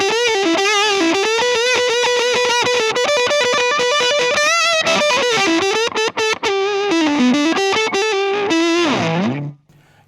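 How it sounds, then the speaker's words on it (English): An electric guitar plays through a Colorsound Overdrive pedal with the gain and guitar volume turned fully up, giving a loud, thick, compressed distorted line of sustained notes and bends that cuts off near the end. "I'm going to whack the gain up right up full now with the guitar at full welly as well."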